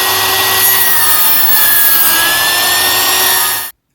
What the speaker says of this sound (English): I'm going to cut a couple of these scrap pieces of wood in half